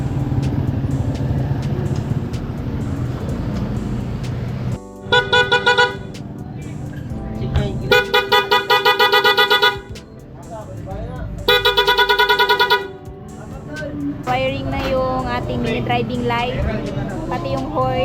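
Upgraded horn on a Honda Click 125 motorcycle, sounded in three loud bursts of a few seconds each. Stretches of talk and background noise come between and around them.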